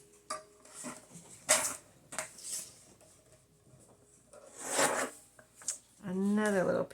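Scissors cut through paper scraps in a handful of quick, crisp snips and rustles up close, followed by a brief stretch of talking at the end.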